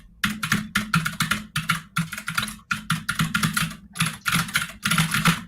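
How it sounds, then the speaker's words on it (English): Loud, clicky computer keyboard typed in quick bursts of keystrokes with short pauses between runs, close and clear with no talking. "Give me some of that clicky keyboard music."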